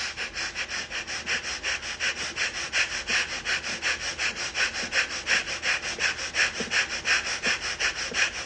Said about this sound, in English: begin skull shining breath